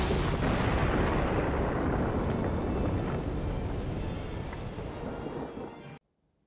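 A huge explosion in Guild Wars 2: a loud, dense, rumbling blast that roars broadly, slowly fades over several seconds, then cuts to silence.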